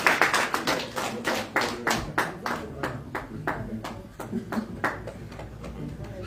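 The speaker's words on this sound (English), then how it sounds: "Please, a round of applause again for Dr. Pedro" Audience applause at a Birmingham meet and greet, a dense burst of many hands clapping loudly up close that thins into scattered, rhythmic claps, with faint voices underneath.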